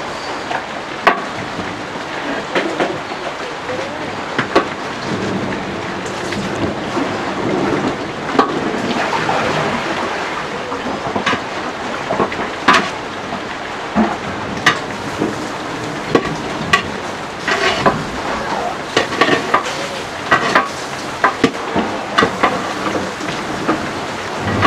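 Chicken biryani for a large gathering is stirred in a big pot, giving a steady, fairly loud wash of scraping, rustling and clinking with scattered sharper knocks throughout, and no voices.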